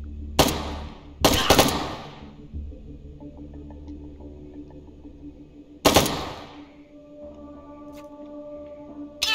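Three loud, sharp AK rifle shots ring out in the H3VR virtual-reality game, with two close together near the start and a single one later. Each crack leaves a short decaying tail over a steady low hum.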